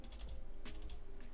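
Quick clicks of fingers typing on a computer keyboard, close by, in two short bursts with a brief pause between them and no voices.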